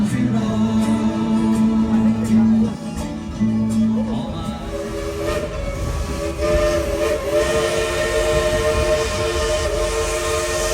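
Dollywood steam train sounding its whistle, a loud sustained blast broken into several pulses over rolling train noise, followed by chuffing and rumbling as the train moves, close by.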